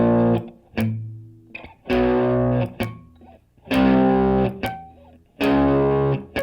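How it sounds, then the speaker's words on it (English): Electric guitar chords strummed in short choppy bursts, each muted quickly, with clicking percussive scrapes between the hits; a distorted, driven tone, close and fairly loud. "Go through the same set of chords moving up and down, but now with this muting thing."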